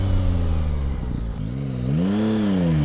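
Yamaha MT-09 motorcycle engine accelerating, a loud, close, continuous grunting roar whose pitch dips and then climbs as the revs rise.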